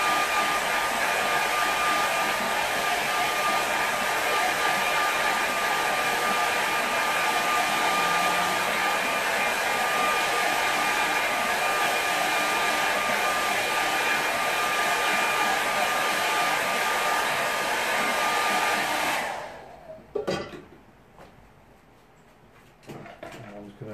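A hair dryer blows steadily and loudly over a watercolour painting for about twenty seconds, a constant whirring rush with a thin whine, then cuts off, leaving a few soft knocks and handling sounds.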